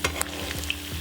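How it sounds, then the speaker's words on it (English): Onion frying in a pan for about a minute, a steady close sizzle with a few stirring scrapes and clinks, no voices. "then fry the onion"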